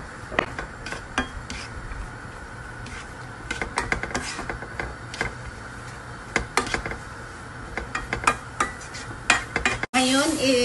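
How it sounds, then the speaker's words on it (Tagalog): Mushrooms fry with a soft sizzle in a pan while a utensil stirs and scrapes against the metal in quick irregular clinks, close and clear, with no talk. "Ngayon, iluto na natin ang mushroom. Iluto natin hanggang pumula yung mushroom."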